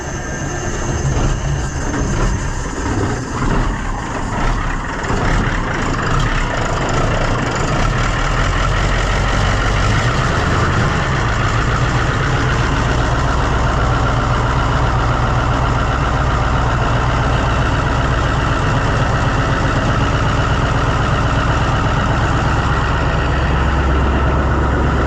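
A White 4-150 tractor engine idling steadily, a loud continuous low rumble with no talk over it.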